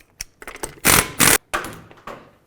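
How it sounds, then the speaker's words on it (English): Lug nuts come off a 2003-2007 Nissan Murano wheel with a 21mm socket, heard as a few loud, close bursts of ratcheting and rattling, two long whirring buzzes and sharp clicks between them. "I'm going to take off this wheel, 21mm socket, remove all 5 of your lug nuts."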